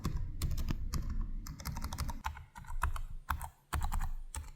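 Fast, steady typing on gaming laptop keyboards, an Acer Predator Triton and an Asus ROG Zephyrus G14, crisp close-up key clicks and clacks in rapid bursts with brief pauses, no voices.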